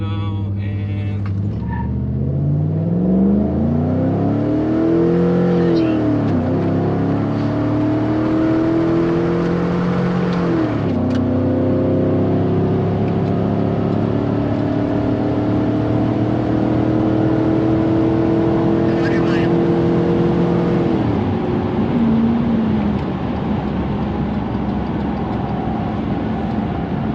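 A truck with a 5.3L engine and a Supercharger flash tune revs against the foot brake, then launches, its engine tone rising and falling before climbing steadily through the run, loud and close inside the cab.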